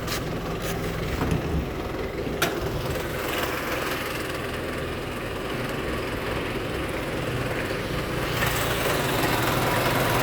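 A used Isuzu TFR pickup truck's 90 HP engine runs at a steady idle, a constant mechanical clatter and hum heard close up, with a few sharp clicks near the start.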